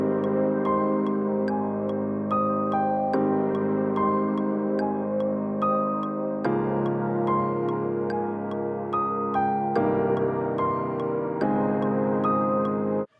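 Synth melody played over sustained pad chords in an original electronic track, a bright lead line with repeated notes riding above steady, full harmony with chord changes every few seconds, loud and continuous without any voice.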